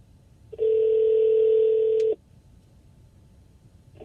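A steady telephone dial tone while calling someone back, one continuous flat tone lasting about a second and a half before cutting off abruptly, loud and alone.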